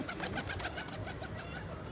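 A homing pigeon that has just returned to its loft coos repeatedly in soft, rounded calls, close by, with no talk over it.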